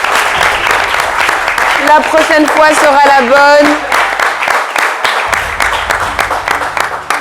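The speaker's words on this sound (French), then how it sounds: "on les applaudit, ils n'ont pas démérité." An audience claps steadily at a school competition final between two lycées as a prize is handed over, the applause running under someone speaking French.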